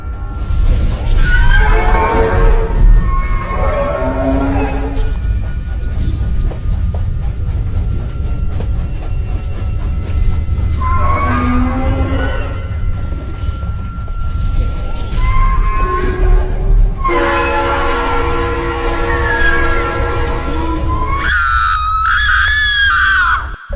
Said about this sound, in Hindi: ट्रेन की आवाज सुनकर सोन की आँख खुल जाती है